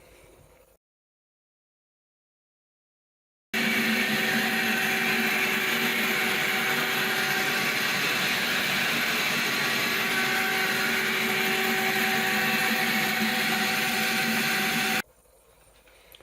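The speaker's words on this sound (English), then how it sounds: "You will just put your shop vac here, and you're going to be sucking only from the drain pan and not from the front." A shop vac draws water from an air conditioner's drain pan, a loud continuous motor roar with a steady whine that starts abruptly after a silent gap and cuts off near the end.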